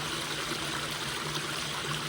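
Clean water gurgles and rushes steadily along a farm stream flowing between banks of bamboo and forest, a continuous close, even burble with no voices.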